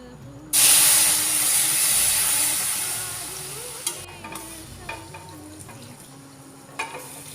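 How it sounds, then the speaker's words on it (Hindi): Milk is poured into a roasted mixture in a hot pan for kheer and sets off a sudden loud hiss of steam and sizzling that slowly fades, followed by a few light stirring knocks. "अब इसमें मैं डाल दूँगी दूध।"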